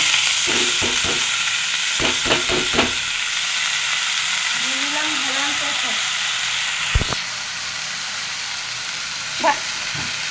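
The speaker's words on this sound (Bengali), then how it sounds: "দিয়ে দিলাম কালো জিরে আর কাঁচামরিচ" Black cumin seeds and green chillies sizzling in hot oil, a loud, steady close-up hiss with a few clustered crackles and spoon knocks scattered through it.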